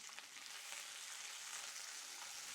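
Garlic, roughly chopped onions and chopped capsicum stir-frying in a pan for a Chinese cauliflower stir fry, giving a continuous bright sizzle at even, moderate loudness with no break.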